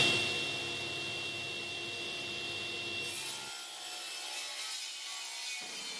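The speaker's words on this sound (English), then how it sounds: "So I started by ripping sheets of plywood down" Sheets of 18mm pine plywood are ripped down with a saw, making a quiet, continuous rasping and rubbing cut. The tone thins out partway through, and there is no talking.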